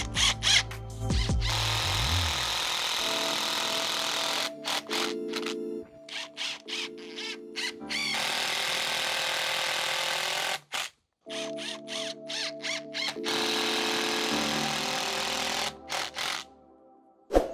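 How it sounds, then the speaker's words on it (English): Power drill driving screws into wood while building a homemade wooden squat rack, with repeated whirring runs of varying length, stuttering pulses and short pauses, close and loud. "going to be screwing some screws in here"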